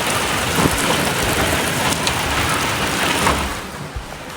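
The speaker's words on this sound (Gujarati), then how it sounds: "હવે વરસાદનો અવાજ આવવાનો શરૂ થયું" Heavy rain pours steadily and loudly, a dense continuous hiss close by, with a few faint rumbles of thunder mixed in and no voices.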